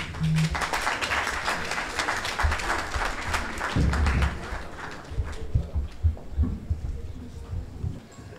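An audience at a literary festival in Senegal claps to welcome a government minister, the applause mixed with low thumps and some background talk, fading into scattered claps toward the end.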